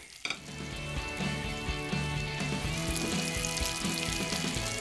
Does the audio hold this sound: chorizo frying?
yes